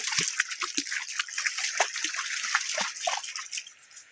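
River water splashing and sloshing as an animal wades in, close and continuous, with irregular soft slaps and trickles across the whole stretch.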